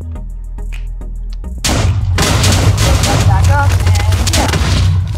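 Minecraft TNT blasting from a makeshift mortar setup, a loud sustained barrage of booming detonations that rolls on after a few sharp thuds, with someone speaking briefly over the noise.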